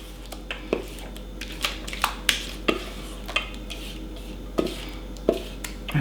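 Corn pudding mixture being scraped and spooned from a mixing bowl into a 2-quart baking dish, with a string of sharp utensil clinks and knocks against the dishes spaced irregularly over a quiet room background.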